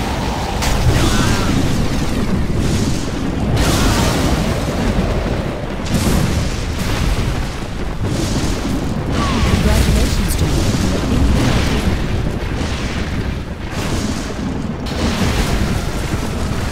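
Nuclear missile detonation in Command & Conquer Generals Zero Hour: a loud, sustained roar of booming blasts and rumbling explosions that fills the whole stretch, with repeated heavy bursts over a continuous low rumble.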